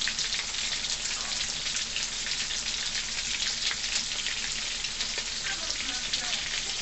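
Coconut-breaded shrimp frying in a pan, giving a steady, dense crackling sizzle that keeps an even level throughout, close and continuous like light rain.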